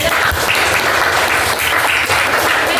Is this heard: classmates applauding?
yes